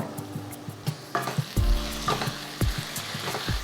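Grated raw mango drops into hot oil for an instant mango pulihora mix and sizzles loudly and close, with a burst of frying hiss and several scraping stirs and knocks against the pan.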